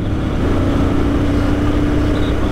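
A Royal Enfield Scram 411, a light motorcycle with a modest single-cylinder engine, drones steadily while being ridden, a loud, even low hum with wind noise and no clear revving.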